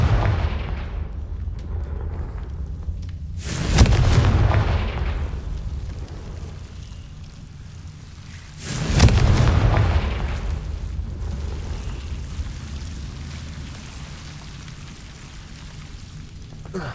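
Two heavy, booming spell explosions from the Confringo curse in the Hogwarts Legacy video game, each a loud blast with a rumbling tail, spaced several seconds apart over a low ambient background.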